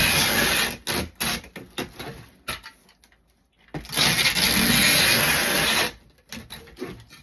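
Packing tape pulled off a roll and pressed along the seam of a cardboard shipping box holding a wreath, in loud ripping bursts with a short quiet gap midway.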